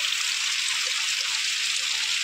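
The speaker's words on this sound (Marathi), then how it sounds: "पाऊस पाऊस पाऊस नुसता पाऊस" Heavy rain falling in a village, a dense, even hiss of downpour that holds steady and loud throughout, with no breaks or voices.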